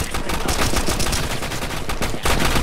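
Gunfire in a Roblox Call of Duty: Modern Warfare II game: rapid, continuous automatic shots crackle loudly and close for the whole stretch, with brief dips in the barrage.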